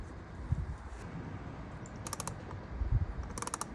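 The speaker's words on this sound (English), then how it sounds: "you can just use your ratchet with a screwdriver bit in the end of it to loosen them off" Ratchet fitted with a screwdriver bit loosening Phillips screws on the air filter cover of a Vespa Sei Giorni 300 scooter, giving quick bursts of small clicking ticks near the end, fairly faint over background noise.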